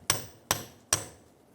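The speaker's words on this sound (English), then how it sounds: "ours has a little bit of corrosion on there, so we're going to have to tap our wrench down" A wrench is tapped down onto a corroded inner tie rod on a 2003-2011 Honda Element: three sharp, close metallic strikes, evenly spaced about half a second apart, each ringing briefly before fading.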